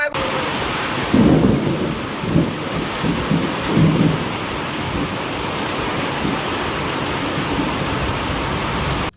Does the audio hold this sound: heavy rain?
yes